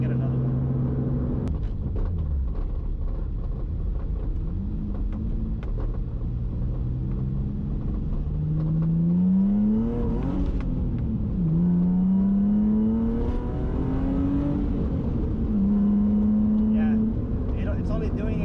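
An Infiniti G35 with a newly replaced clutch slave cylinder launches and revs hard, its engine rumble rising in pitch through repeated climbs and gear changes, loud and close, with a voice talking briefly over it.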